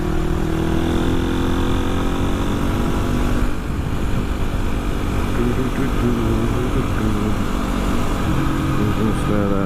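A two-stroke motorcycle engine runs steadily and loudly close by, with a constant buzzing drone and slight shifts in pitch partway through.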